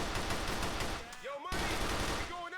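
Dense rapid gunfire in a GTA video game shootout, a continuous rattle of shots that breaks off briefly midway and then resumes, with faint gliding tones in the background.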